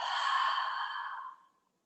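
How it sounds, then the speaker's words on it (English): One long, breathy exhale through a wide open mouth, close and fairly loud, holding steady before fading into silence after about a second and a half. "Open the mouth, exhale."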